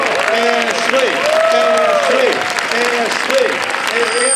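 Audience applause at a live vacuum cannon science demonstration, steady and full for the whole stretch, with rising and falling whoops and voices riding over the clapping.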